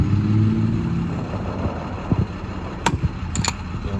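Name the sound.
idling truck engine at gas station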